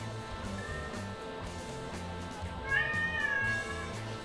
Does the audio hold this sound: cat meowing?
yes